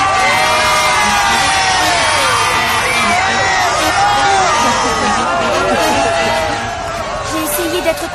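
A crowd of young voices cheers and shouts for the football champions of Port-Marie, a loud continuous mass of excited calls and whoops that stays close and dense before easing slightly at the end.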